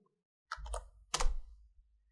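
A few quick keystrokes on a computer keyboard, two short bursts of clicky tapping close up in a quiet room.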